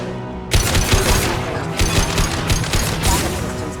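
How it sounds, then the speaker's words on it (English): Weapon fire in the video game Mass Effect 2: a dense, sustained volley of rapid shots with heavier booming impacts, loud and continuous throughout. "Firing a high-impact shot!"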